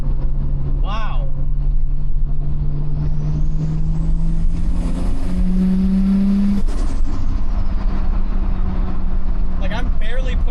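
A big-turbo right-hand-drive Toyota Supra engine drones under light throttle while driving, its tone rising steadily then dropping as the load changes, with a faint turbo whistle and a loud, close, continuous cabin sound.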